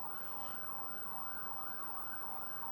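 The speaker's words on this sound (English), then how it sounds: "It's an ambulance or police" A distant ambulance or police siren in Jerusalem wails up and down in a steady repeating cycle, faint and far off, with no talking.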